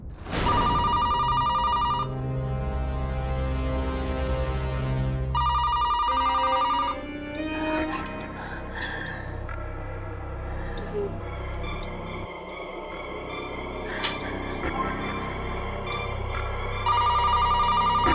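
A telephone rings in repeated electronic bursts with gaps, set against eerie horror-show music and scattered effects, and the ring returns loudly at the end.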